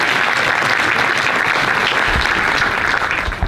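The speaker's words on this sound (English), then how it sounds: "Applause, please, somebody." Dense, loud applause from a lecture audience at a university talk on the Milky Way, a continuous wash of many clapping hands that holds steady for several seconds.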